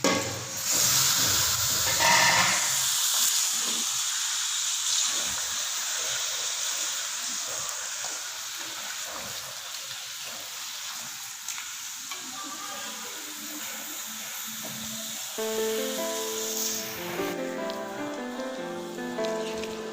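Chicken pieces dropped into hot oil in a pan, a steady loud sizzle and crackle of frying that runs throughout, with light stirring clatter near the end and no speech.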